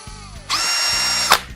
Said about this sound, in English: with up to 40 Nm of torque, it has plenty of power to drill even large holes quickly